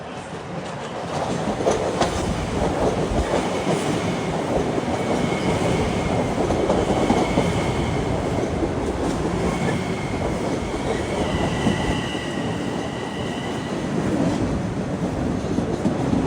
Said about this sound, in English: This is a local train.